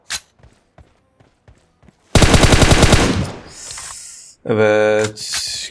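Gunfire in PUBG Mobile: a long, loud burst of rapid automatic shots runs for about a second, followed by another sharp firing sequence, with scattered faint footstep-like taps beforehand.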